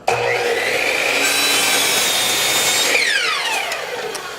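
A hand saw cuts off a piece of wood trim in steady, rapid back-and-forth strokes, loud and close, easing slightly at the end as the piece comes free.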